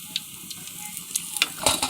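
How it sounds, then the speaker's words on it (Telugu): Food frying in hot oil with a steady close sizzle, brief scrapes and taps of stirring, and sharp bubbling crackles bursting near the end. "ఇట్లా డీప్ ఫ్రై చేస్తుంది మా అక్క."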